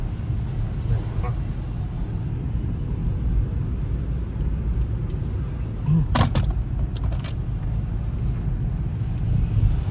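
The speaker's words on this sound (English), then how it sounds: "Still windy." Strong wind during a snowstorm in Romania, a steady low roar buffeting the microphone throughout, with a few sharp knocks near the middle, and no one speaking over it.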